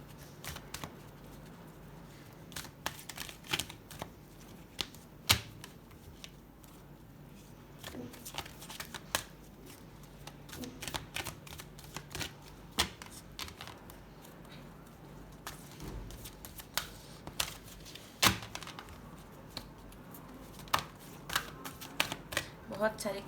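Tarot cards handled and shuffled at close range, giving a quiet run of soft riffles, flicks and scattered clicks that come and go irregularly over a faint room background.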